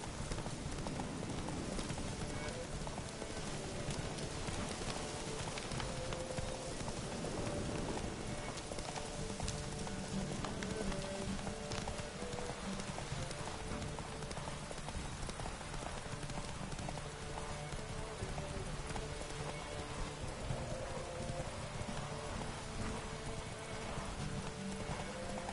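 Roach the horse gallops in The Witcher 3, a continuous run of rhythmic hoof clip-clops over a wash of rain on the ground, with occasional snorts and whinnies, moderately faint and steady throughout.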